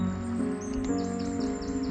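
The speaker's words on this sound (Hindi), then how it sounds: "पंछियों की चहचहाहट" Small birds chirp and tweet in repeated short calls from a large, beautiful garden, heard over a soft sustained hum that fills the background.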